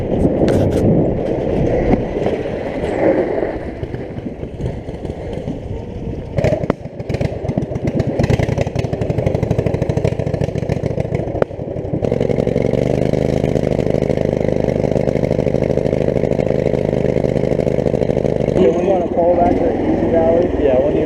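An offroad tractor engine at Walker Valley revs loudly and roughly up close, settling into a steady droning run with clattering, while voices talk over it at times.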